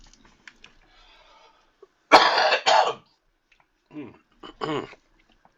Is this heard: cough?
yes